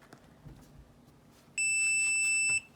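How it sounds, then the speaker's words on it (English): A Kwikset SmartCode deadbolt beeps after a battery change: a single steady electronic tone lasting about a second, loud and close, following quiet handling noises. "We got the beeps that it's working"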